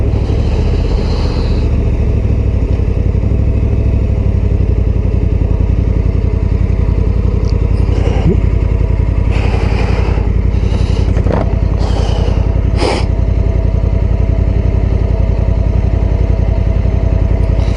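Honda Africa Twin Adventure Sports motorcycle engine on a ride, a loud steady low rumble close to the rider, with brief bursts of wind and road noise over it.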